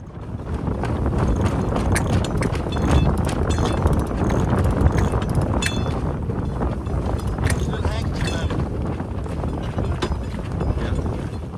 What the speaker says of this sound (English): Wind's coming up a little bit, Gerald.